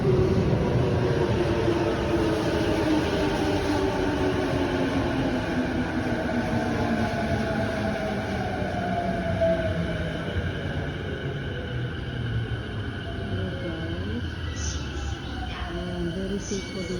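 A local commuter train pulls into a station track, its steady rumbling roar loud and close throughout, with a gradually descending tone as it slows and faint brakes or squeals near the end.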